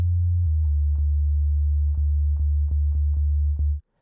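A deep, smooth synthesizer bass drone with its filter cutoff turned down hums low and steady for several seconds, with faint soft clicks along the way, then stops abruptly.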